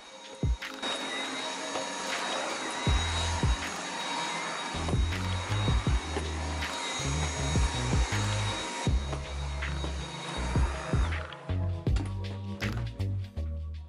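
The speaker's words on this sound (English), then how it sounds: "I should have probably wiped the corners first before vacuuming it" A vacuum cleaner runs steadily while cleaning inside a bedroom closet, its motor whine continuous and fairly close, with repeated low thumps and knocks as the nozzle bumps along corners and the floor.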